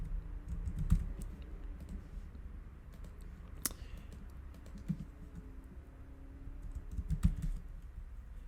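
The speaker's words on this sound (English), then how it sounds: "as I was typing those numbers in" Numbers being entered on a computer keyboard into a spreadsheet: steady, close light key taps run throughout, with a few sharper clacks standing out, and no talking.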